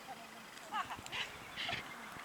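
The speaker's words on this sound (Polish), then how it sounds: "Ludzie chodzą, pies szczeka." A dog barks a few times at a distance during summer feeder and float fishing outdoors, faint yips under nearby voices talking.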